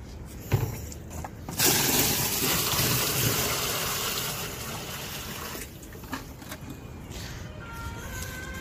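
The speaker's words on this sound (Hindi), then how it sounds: "चलो खैर, पानी डालते हैं" Water pouring steadily into a washing machine from buckets, a broad rushing gush that holds for several seconds and then eases off near the end.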